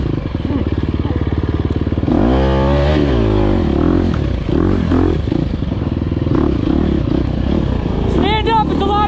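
A dirt bike in a Cherokee National Enduro race in the Georgia pines revs hard along a slick trail, the engine pitch rising and falling close by with clatter from the terrain, while a voice speaks over it.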